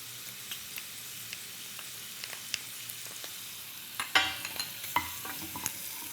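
Garlic sizzles in a hot frying pan, a quiet steady crackle with light clicks and stirring scrapes, and a brighter burst of spitting near the middle.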